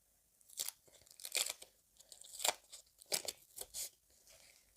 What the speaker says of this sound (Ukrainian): Ось наш пакетик з карточками. І давайте якось відкринькаємо.